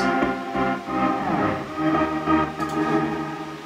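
Muffled music with dull, rounded chords and a soft pulsing beat, the bright upper tones cut away so it sounds distant and smothered.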